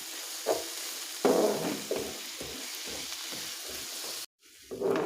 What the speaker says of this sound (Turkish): iki tane havucumuzda hemen yağımızın üzerine tekrar bırakıp soğanlarımızla birlikte havuçlarımızı da güzelce bir kavuralım